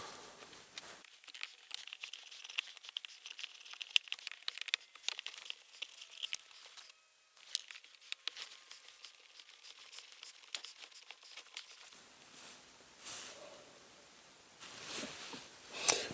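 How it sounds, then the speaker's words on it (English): Plastic trim clips around the shift boot of a Subaru WRX are pried out with two flathead screwdrivers, giving close, quiet crinkling creaks and irregular snapping clicks in bursts, with a pause midway and a louder rustle at the end. "They're just plastic clips, so we're going to remove those now"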